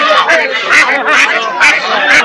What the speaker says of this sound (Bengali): কাকা 2টা হাঁস নিয়ে আসছে, বাঁশের খাঁচাই করে কিন্তু নিয়ে আসছে